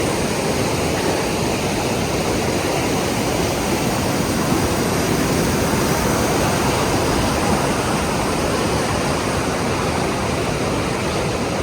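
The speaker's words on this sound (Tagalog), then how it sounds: "Overflow yung tubig." An overflowing river beside a forest in autumn, its water rushing strongly in a loud, steady roar of broadband noise, close and unbroken throughout.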